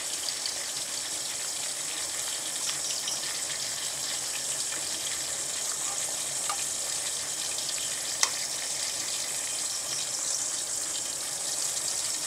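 Tilapia fillets fry in a pan with butter and black pepper, a steady even sizzle holding at a moderate level, with a brief clink partway through and no talking.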